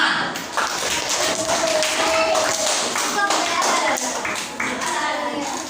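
Hands clapping in a school classroom during a positive-discipline session, a loud, dense burst of group clapping that carries on steadily, with children's voices and a few thuds underneath.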